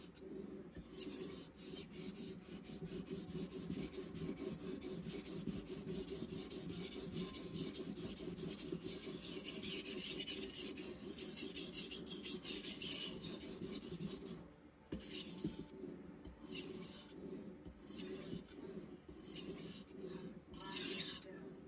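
A knife blade is drawn over the stone of a guided knife sharpener in long, steady rasping strokes, close and continuous, with a brief pause near the end before shorter strokes resume.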